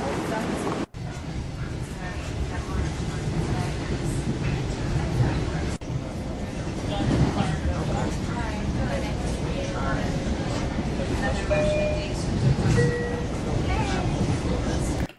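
Train riding on rails, a continuous rumbling, rattling interior ride noise lasting throughout with faint squeals and clatter, while people talk over it.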